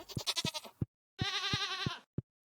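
A sheep in the Stardew Valley farming game gives two loud, wavering bleats separated by a short pause, with clicking footstep-like taps between them.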